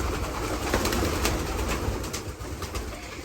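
Pigeons cooing in a stock loft, soft throaty coos over a busy background of rustling and wingbeats, close by, with no speech.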